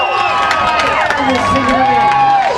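Crowd cheering at a Tuff Truck Canada off-road truck event, loud and continuous with shouts and whistles layered over the din, and an announcer's voice rising above it near the microphone.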